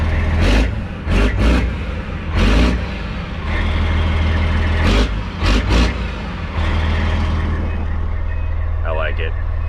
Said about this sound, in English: I think it idles a little bit higher when it's colder outside.